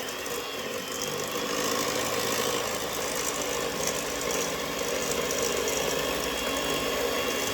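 Steady whirring drone of an electric hand mixer beating mascarpone into custard for tiramisu, a constant motor hum with a gritty texture and no pauses, no voices over it.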